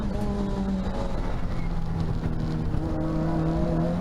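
A race car engine drones loud and steady from inside the car on track at Rockingham, holding a sustained high-revving tone with slight pitch shifts through gear changes.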